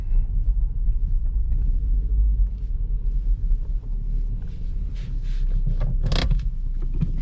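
Skoda Octavia third generation with a factory brake system fault rolls into a workshop: a low engine rumble and tyre noise indoors, followed by a few clunks and a sharp knock near the end.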